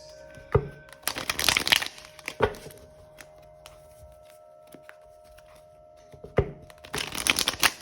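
Bursts of playing cards being shuffled, a riffle near the start and another near the end, with a quieter stretch of small handling noises between them.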